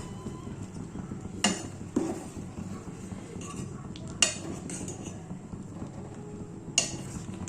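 Doodh puli being stirred in a pot for a Bengali pitha, with a few sharp metal clinks of a spoon against the vessel over a low, steady background murmur.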